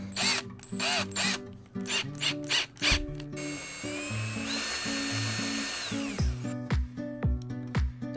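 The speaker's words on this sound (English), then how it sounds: "So use a smaller bit and then slowly drill a bigger hole." A power drill whirs in repeated short bursts, drilling a hole with a small bit, then runs steadily for a few seconds with a rising whine before stopping and starting again in pulses.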